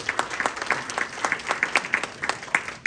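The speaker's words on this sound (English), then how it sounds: "Another round of applause for Burton Kelso" A crowd claps for Burton Kelso at a real estate seminar, the applause thinner and more distinct, with individual close claps standing out in an uneven rhythm before it fades toward the end.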